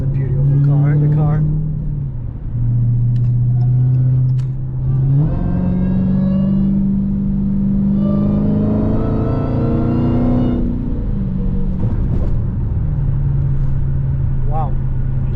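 Dodge Challenger Hellcat cruising on a highway at night, its engine a steady, deep rumble with rising pitch as it accelerates, while people talk over it.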